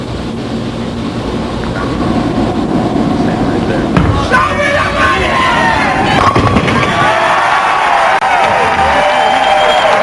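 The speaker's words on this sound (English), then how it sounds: "Pete Weber shooting first." At a 1997 Florida Open ten-pin bowling challenge match, a ball rumbles down the lane and crashes into the pins midway. A loud crowd roars in reaction while a commentator talks throughout.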